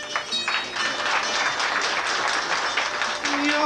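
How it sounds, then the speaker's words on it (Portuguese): Audience applause at a Portuguese cantoria singing performance, a short burst of mixed clapping with some speech-like voices over it, fairly close and moderately loud. "A gente daqui vai dar palmas para quem"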